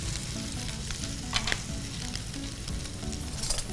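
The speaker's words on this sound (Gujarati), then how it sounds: "જો આદુ મરચા લસણ સાતરી લીધા" Ginger, green chili and garlic sautéing in a pan for paneer masala gravy, a steady, close sizzle with light stirring scrapes and a few brief sharper clinks.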